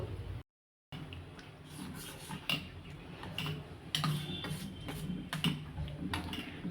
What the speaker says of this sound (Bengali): আমি একটা চামচের সাহায্যে ভালো করে গুঁড়ো দুধটাকে এই গরম দুধের সাথে মিশিয়ে নিচ্ছি।